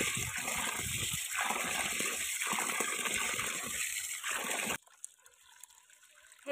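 Unpolished village sorghum grains are washed by hand in water, giving loud, repeated sloshing and splashing in rhythmic bursts for about five seconds before it drops to quiet drips.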